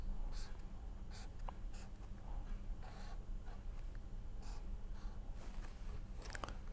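A pen scratches quickly across paper while a chemical structure is sketched by hand, with short strokes and taps repeating in a steady run, quiet and close.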